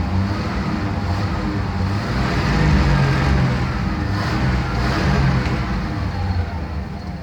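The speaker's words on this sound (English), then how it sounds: "I'm going to rev it up just a little bit." A 1971 Chevy C10 pickup engine revs and warms up close by, a steady loud rumble with gentle swells in the throttle throughout.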